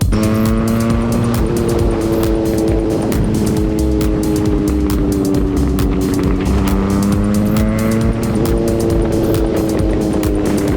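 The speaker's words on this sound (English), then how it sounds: "These little engines make for piles of fun" Small motorcycle engines whine loudly and continuously, pitch rising and falling with gear changes as several machines race close by on highland trails.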